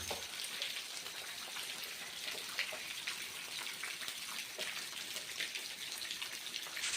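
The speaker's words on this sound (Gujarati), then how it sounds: "કમોસમી વરસાદ પડવાથી ખેડૂત આલમમાં ચિંતાનું મોજું ફરી વળ્યું" Steady unseasonal rain pattering down over farmland in Vav taluka, in a dense, even hiss, with scattered droplet taps throughout and no voices.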